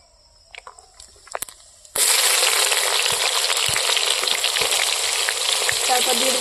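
Chopped onion hits hot oil in a wok, soft clinks giving way at once to a loud, dense, continuous sizzle that holds steady to the end, with a few faint scrapes beneath.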